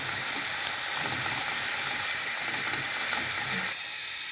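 Noodles frying in a pan while being stirred, giving a loud continuous sizzle with scraping spatula strokes throughout. The sizzle drops abruptly near the end, and no one speaks.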